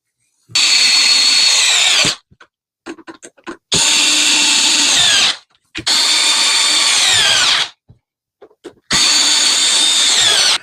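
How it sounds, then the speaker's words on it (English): A Ryobi power drill whirs in four loud bursts of about two seconds each while driving screws into a 40V snow shovel, pitch sliding down as each screw tightens, with small clicks and knocks between runs. "then you can use the power tool."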